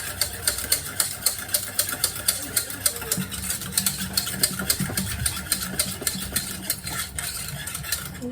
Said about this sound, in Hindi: मैं दही को ना फेंट लेती हूँ अच्छी तरह से